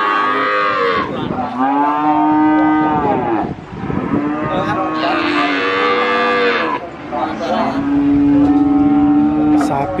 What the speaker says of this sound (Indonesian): Ini teman-teman yang butuh sapi-sapi betina, pojokan timur Pasar Hewan Langgeng Sragen